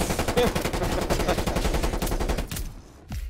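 Rapid automatic gunfire in a video game, a loud continuous burst of shots that cuts off after about two and a half seconds, followed by a brief quieter tail.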